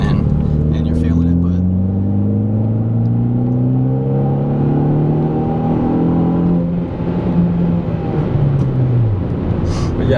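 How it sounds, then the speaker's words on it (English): A 2013 Hyundai Veloster Turbo with an aftermarket Magnaflow exhaust rumbles steadily as it accelerates through the gears, engine tone rising in repeated sweeps, loud and continuous from inside the car, with a voice talking over it. "It's a magnaflow, so it definitely rumbles."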